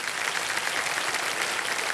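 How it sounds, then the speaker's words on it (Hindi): Steady applause from a television quiz show studio audience, dense clapping that stays even throughout, moderately loud with no voices standing out. "बहुत बहुत स्वागत तालियों के साथ इनका"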